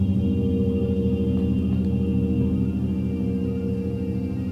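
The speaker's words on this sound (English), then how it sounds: "The sound doesn't just come from the gong alone" A sustained, shimmering metallic drone with a steady low hum and wavering overtones that rings on evenly throughout, like a gong resonating after being struck.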